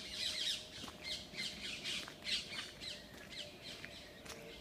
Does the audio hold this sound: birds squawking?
yes